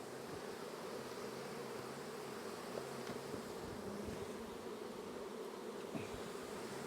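Honey bees fan at the entrance of a crowded hive during a heavy nectar flow, a steady, dense buzzing drone holding evenly throughout with no voices.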